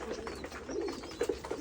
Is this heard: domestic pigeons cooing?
yes